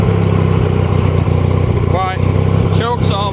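A Ford YT16 riding lawn mower runs with a loud, close, chugging engine rumble, pulsing steadily and rising briefly in pitch near the end. Someone talks over it.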